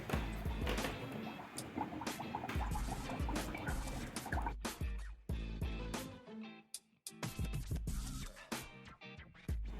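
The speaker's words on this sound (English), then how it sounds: "Let's see what happens when you put this block of ice called dry ice, which is as cold as minus 73 degrees Celsius in water." Block of dry ice at minus 73 degrees Celsius dropped into water, giving continuous loud bubbling and fizzing with dense gurgles and drips that briefly thin out midway before bursting back, close and alone.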